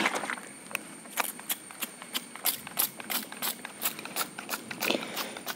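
A hand sprayer applies pseudomonas solution to bitter gourd stems, giving a quick series of sharp spraying bursts and clicks, close and moderately quiet with no talk.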